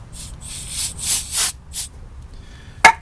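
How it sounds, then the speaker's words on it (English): Starting fluid is sprayed from an aerosol can onto car wiring in short hissing bursts, close and fairly loud, followed by a sharp click near the end. "So okay, so what I do is I use some starting fluid, because it's a pretty damn good cleaner actually."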